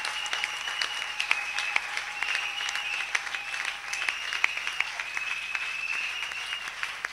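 A church congregation applauds, a sustained crowd of clapping hands at moderate distance with a faint held tone underneath.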